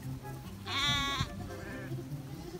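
Sheep bleat on a farm, one clear, loud, wavering bleat near the start followed by a fainter second call, over a low background hum and livestock pen noise.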